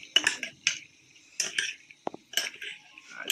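A metal utensil clinks and scrapes against a bowl while stirring tamban fish kinilaw, several short bursts of clatter separated by brief pauses, close and fairly quiet.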